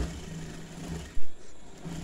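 A sewing machine stitches around the sleeve of a chudithar top, giving a steady low mechanical hum through the whole stretch and one brief louder thump partway through, with no voices.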